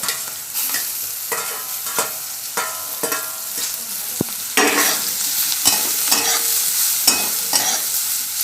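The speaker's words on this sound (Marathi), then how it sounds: "परत 2 मिनिटं आपल्याला परतायचं आहे" Roasted radish pods fry in a pan with chutney, a steady sizzle under repeated close scrapes of a spatula stirring and turning them, growing slightly louder partway through.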